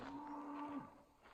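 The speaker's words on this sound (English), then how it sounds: "I hate stressing out the cows." A cow gives one drawn-out, fairly near moo on a farm trail, followed by a softer trailing call, with quiet outdoor background and no talk.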